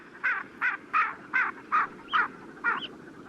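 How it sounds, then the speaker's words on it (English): A bird calls seven times in a steady, evenly spaced series of harsh, cawing notes, fairly close and clear against a quiet background. "Well, yes, an animal, and specifically a bird"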